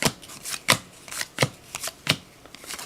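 Close, crisp riffles and flicks of 2013 Topps football trading cards from a retail box, handled in quick bursts about every half second, with no talking.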